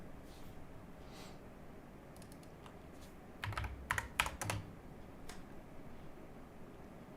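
Typing on a computer keyboard, a quiet run of scattered keystrokes that turns into a short, louder flurry of clicks midway, then trails off to a few light taps over faint room hum.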